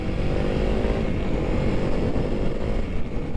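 A 2021 Honda CRF300L motorcycle engine runs steadily at moderate throttle in city riding, a continuous low rumble with no hard revving, close by.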